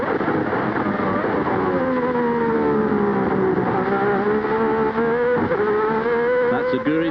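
Onboard a Lotus Lamborghini V12 Formula 1 car at Estoril in 1990, a loud high-pitched engine wail climbing and dropping through gear changes, continuous and close throughout.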